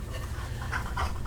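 A dog pants rapidly and steadily at close range while playing, with quick rhythmic breaths filling the short moment and no talk.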